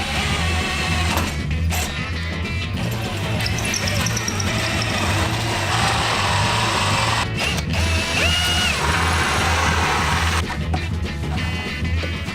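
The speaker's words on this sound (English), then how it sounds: "You gotta watch me drill 3 big holes in this tub." A power drill bores through a Roman bathtub, a steady grinding, ratcheting mechanical whir close by that runs almost unbroken, with a few brief pauses between bursts.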